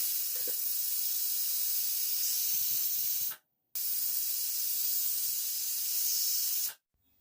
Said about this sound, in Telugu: ఒక 3 విజిల్లు వస్తే సరిపోతుందండి కుక్కరు